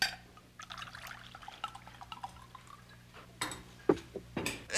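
White wine pours into a glass in a few short trickles and gurgles near the end, with quiet clinks and faint room murmur beforehand.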